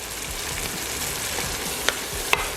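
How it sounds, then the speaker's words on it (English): Dhania and jeera powder hitting hot oil for a Durban-style chicken curry, a continuous close sizzle and frying hiss with two sharp clicks of a utensil near the end, no voices. "I'm going to put some dhania and jeera powder in."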